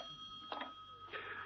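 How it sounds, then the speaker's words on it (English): An old telephone rings in two short bursts of bell tone in a quiet room, from a radio drama. No one speaks over the rings. "The telephone rang."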